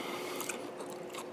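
Pumpkin seeds (pepitas) crunch between the teeth in a few quick, faint bites, a short close-up burst of chewing with no talking.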